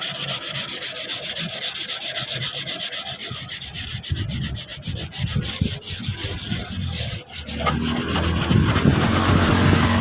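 Close, loud, continuous sanding rasps over a Karisma motorcycle's body panel before a new stripe is fitted. The abrasive hiss holds steady with slight changes in stroke, and a short dip comes near the end.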